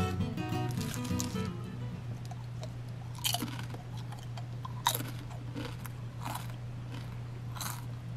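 Spicy Paqui chips eaten up close in a one-chip challenge, with loud crisp crunches and bites followed by repeated wet chewing, each crunch sharp and close.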